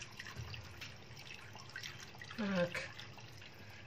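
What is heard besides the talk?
hot water poured into a tagine pot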